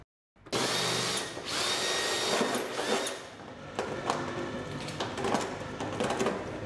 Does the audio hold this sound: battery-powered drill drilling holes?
yes